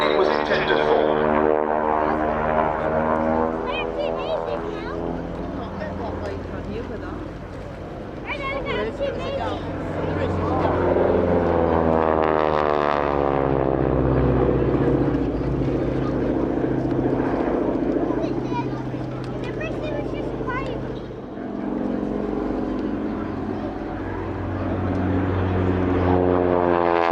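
A propeller aircraft from the Rolls-Royce Heritage Flight flies at the East Kirkby airshow, its steady droning engine tone swelling and fading as it passes, with a crowd murmuring and talking throughout.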